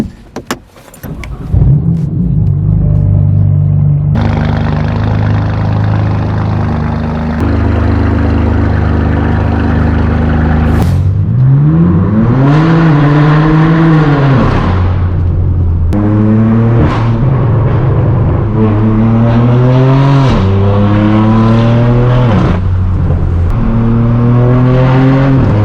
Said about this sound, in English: You guys join me in my straight pipe BMW M4.